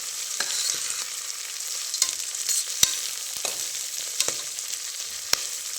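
Mint leaves frying in oil with whole spices for ghee rice, a steady close hiss of sizzling broken by occasional sharp crackles and pops; no talking.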